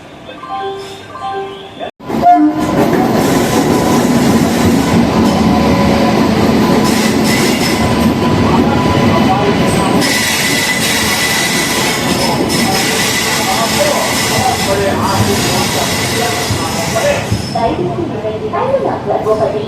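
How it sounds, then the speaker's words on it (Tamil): At a railway station serving the Sabari Express between Secunderabad and Thiruvananthapuram, a train rumbles loudly with wheel clatter and a faint squeal, following a brief sharp knock, and voices talk beneath the noise. "திருப்பதி ஹஸ்ரத் நிசாமுதீன் ட்ரெயினுங்க இங்கே நிற்குது"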